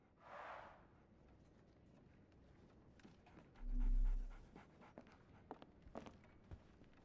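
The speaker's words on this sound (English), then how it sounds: "So, Barnes has a dog now." A dog in the Sherlock Holmes The Awakened video game pants in a short quick burst up close, followed by faint rustling, soft footsteps and a brief low hum.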